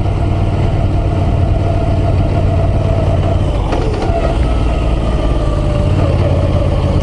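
A Moto Guzzi V9 Roamer motorcycle's engine drones steadily while riding, a loud continuous mid-low hum with wind noise and a slight shift in pitch partway through.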